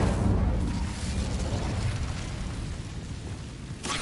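An Incendio fire spell goes off in a magic-school video game with a loud, rumbling burst that swells at once and slowly fades, followed by a brief sharp crackle at the end.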